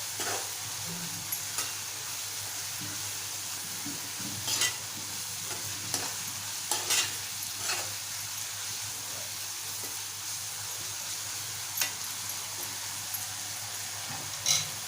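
Sprouted moong being stirred in a pan with Kashmiri chilli powder and coriander, a steady soft scraping and faint sizzle with occasional louder spoon knocks, no voices.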